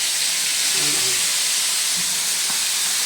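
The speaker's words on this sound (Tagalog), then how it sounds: "Piprito natin yan guys. Lubog sa mantika para masarap." Food fries submerged in deep oil in a Filipino kitchen, a steady loud sizzle and hiss throughout with faint background voices.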